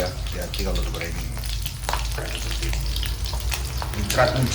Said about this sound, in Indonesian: Harus ditutup ya, hati-hati kalau goreng ini.